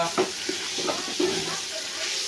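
Lentils (dal) cook in a pot with a steady close sizzle and frying hiss, broken by soft scraping stirs at a loose rhythm, with faint talk behind.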